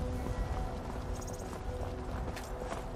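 Hooves of a horse pulling a carriage in Skyrim clip-clop at a steady walking rhythm, moderately close and continuous, with soft ambient sound underneath and no talk.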